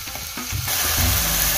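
Spinach sizzles and fries in a pot, making a steady, loud crackling hiss close to the listener that builds and thickens partway through.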